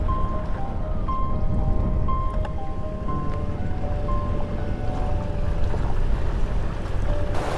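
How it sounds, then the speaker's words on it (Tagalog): A small boat moving on high-tide flood water in a flooded area, with a steady droning motor and splashing water under constant wind noise, heard alone at a moderate distance. "Ito may bangka po."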